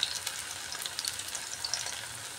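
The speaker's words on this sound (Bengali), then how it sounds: "অপর দিকটাও ভেজে নিচ্ছি।" Pieces being fried crisp in hot oil after turning to the second side give a soft, steady sizzle with scattered small pops and crackles, close but fairly quiet.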